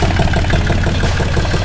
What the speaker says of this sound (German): der Motor läuft wieder.